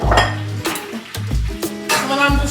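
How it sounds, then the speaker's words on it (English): A utensil scrapes and clanks against a pan as noodles are stirred through hot bacon grease, with several sharp knocks and scrapes at an uneven rhythm over a faint sizzle. "I'm just gonna stir it around in there and make sure it gets everywhere and touches every noodle"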